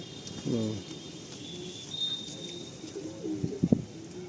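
Pigeons kept for sale at Sonarpur give short, soft cooing calls close by, one burst early and a cluster of throaty coos near the end, over a quiet background.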